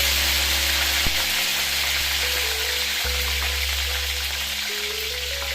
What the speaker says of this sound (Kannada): ಒಂದು ಸ್ಪೂನ್ ಸಾಸಿವೆ ಒಂದು ಸ್ಪೂನ್ ಜೀರಿಗೆ ಸ್ವಲ್ಪ ಕರಿಬೇವಿನ ಸೊಪ್ಪನ್ನು ಹಾಕಿ ಚೆನ್ನಾಗಿ ಸಿಡಿಸಬೇಕು